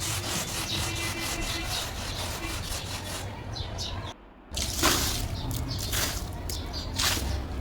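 A brush scrubs a wet carpet soaked with water and oxygen cleaner, giving steady rough back-and-forth rubbing strokes close by, with a brief pause partway through before the scrubbing resumes.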